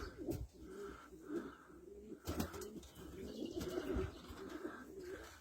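Domestic pigeons coo in soft repeated low phrases outdoors, with a few faint chirps and light flapping-like rustles, quiet and somewhat distant.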